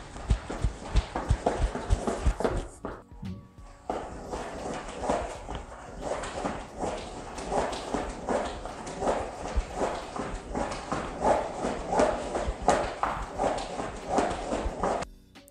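Homemade VR shoes jogging on a rug, producing a steady run of quick, rhythmic footfall thuds and clatters close by, with no talking.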